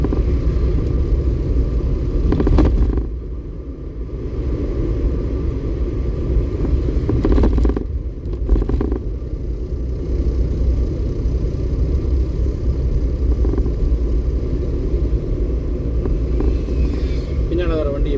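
A car moving along the road during a driving lesson gives a steady low engine rumble with a few louder surges, while someone talks over it throughout.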